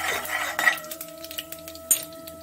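Fenugreek seeds dropped into hot oil for a South Indian saaru give light scattered pops and a low sizzle beside a metal clink or two of a pan and spoon, close up, no voices.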